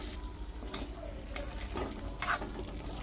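Mutton curry being mixed in a pot, with soft low sizzling and a few scraping strokes of a spoon, fairly quiet and close, no speech.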